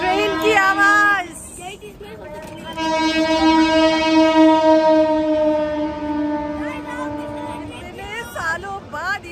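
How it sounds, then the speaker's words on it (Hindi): At a busy Indian railway station, a train horn blares in long sustained tones, one short blast then a longer drawn-out one that fades, loud and near over crowd murmur and rail noise. "ओह ये ट्रेन की आवाज।"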